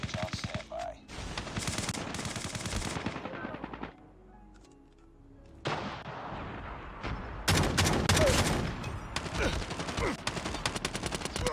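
Gunfire in the mobile shooter Call of Duty Mobile, with shotgun blasts: loud, close bursts of rapid shots in several dense volleys, a short quieter lull in the middle, then heavier firing resuming to the end.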